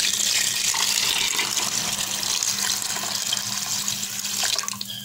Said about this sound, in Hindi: इसमें पानी डाल रहे हैं